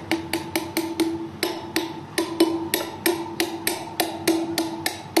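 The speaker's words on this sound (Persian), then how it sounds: "چکش باید بزنیم جا بخوره" A hammer strikes repeatedly to seat a gear into place, a steady run of about twenty sharp metallic blows with a ringing tone, close and alone.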